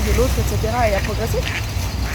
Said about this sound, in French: c'est un chien qui vient de courser tout un groupe de canards